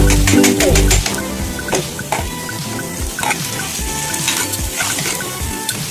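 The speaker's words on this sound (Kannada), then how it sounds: "ಚೆನ್ನಾಗಿ ಫ್ರೈ ಮಾಡಿ ನೀರು ಹ್ಯಾಕ್ ಮಾಡಬೇಡಿ ಅದೇ ಎಣ್ಣೆಯಲ್ಲಿ ಫ್ರೈ ಆಗಬೇಕಂತ" Loud frying and sizzling of paneer with tomato masala in oil, a utensil scraping and stirring through a pan, a burst of heavier sizzle at the start, no talk.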